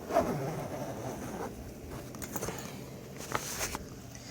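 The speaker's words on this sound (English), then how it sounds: "hard to undo the zipper on this machine because it's never been undone before." The zipper on the outer bag of an Oreck Halo vacuum cleaner, stiff from never having been opened, is pulled open in a few faint, scratchy rasps and short tugs against low background noise.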